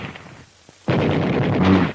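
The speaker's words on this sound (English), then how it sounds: "A machine gun." A machine gun opens fire after a brief quiet moment, breaking into a loud, sustained rattling burst that carries on to the end.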